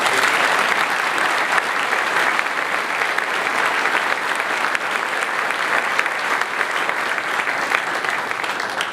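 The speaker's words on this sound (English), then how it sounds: "Let's give them a round of applause." An audience at a university presidential announcement gives sustained, even applause, a dense wash of clapping that holds steady throughout.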